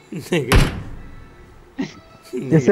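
A door in a video game thunks loudly once, then comes a softer knock later, while voices talk over the whole stretch.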